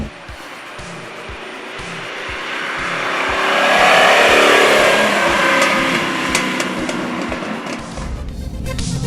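A 1985 Lamborghini Jalpa's 3.5-liter engine revs hard while driving, swelling to a loud, sustained roar mid-way before easing off, with steady rumble throughout.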